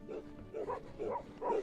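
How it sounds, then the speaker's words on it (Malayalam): Shepherds' dogs bark at high altitude in a snowy mountain setting, three or four rhythmic barks or yelps at moderate distance, heard alone without talk. "ആ നായി തന്നെ ഉണ്ടോ?"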